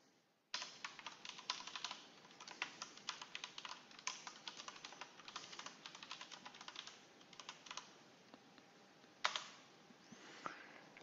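Fast continuous typing on a computer keyboard, dense rapid key clicks for about nine seconds, close and clear, ending with a few heavier isolated keystrokes.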